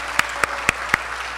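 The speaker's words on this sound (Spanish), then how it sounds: "Juanita Alonso, un aplauso" Applause at a political event honoring a municipal president, heard as a sparse handful of distinct claps in an even rhythm over a humming room, moderately loud and without voices.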